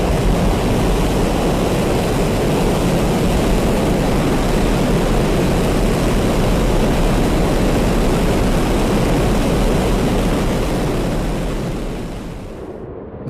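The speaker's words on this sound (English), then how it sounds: "This was of course all followed on Friday night by the full 6-engine static fire." A SpaceX Starship undergoes a full six-engine static fire, a minute-long burn heard from a distance as a dense, continuous broadband roar that holds steady and then tapers away at the end.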